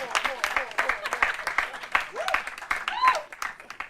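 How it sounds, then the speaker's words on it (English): Applause and cheering from the audience for the contestants at the Law Challenge 2023 university law contest between University of Ghana and GIMPA, clapping running steadily beneath a voice talking over it. "A round of applause for all our contestants."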